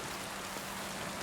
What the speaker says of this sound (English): this is a bug that needs to be resolved. Raining on the inside.